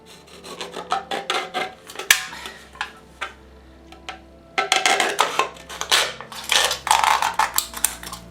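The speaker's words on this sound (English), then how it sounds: "Once you've marked the can, you need to cut it." A metal can is cut with a rasping, scraping rhythm in irregular bursts, first sparse strokes and then a denser run of loud, close scrapes with short pauses.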